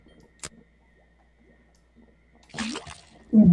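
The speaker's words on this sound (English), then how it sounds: "Then tap the faucet." In a cartoon puzzle game, a faucet pours water into a cauldron as a short splashy gush, followed by a bubbly burst, after scattered soft clicks and ticks in near silence.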